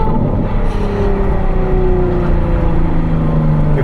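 Ferrari 812 N-Largo with Novitec exhaust driving, a steady close engine drone with a slowly falling whine, loud and continuous with no talk.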